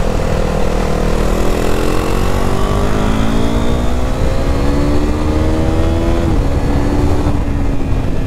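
A KTM RC 390 single-cylinder motorcycle engine pulls hard and loud from close by, its pitch climbing steadily under acceleration, then settling and climbing again, with no talking.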